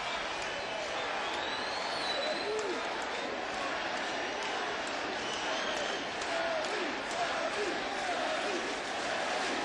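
A baseball crowd at a 2007 Rays game keeps up a sustained roar of cheering and clapping for Shelley Duncan, with a voice talking over the din.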